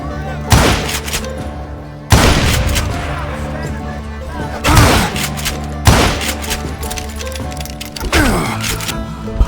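Hired gunmen firing in Call of Juarez Gunslinger: loud sharp gunshot cracks and booming blasts land in bursts roughly every two seconds over a steady game soundtrack, with no voices.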